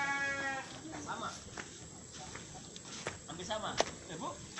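Etawa crossbreed goats bleat at a farm in Aceh Tamiang, several calls rising over a steady background hum and scattered shuffling and footstep noises, with people talking faintly nearby.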